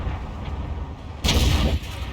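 An M46 Patton fires its cannon in a tank video game, one sharp booming shot that bursts loud over low background rumble and rings out for about half a second before fading.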